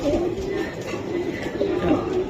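Giribaj pigeons cooing steadily at a pigeon sale, a continuous low murmur of several birds close by with a faint hint of background voices.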